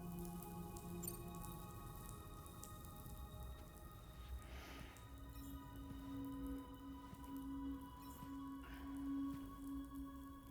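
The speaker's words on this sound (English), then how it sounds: "Those raindrops are falling on my head. They keep falling." Soft, scattered raindrops patter faintly in the Death Stranding 2 video game, under steady tonal music with a few brief louder drips.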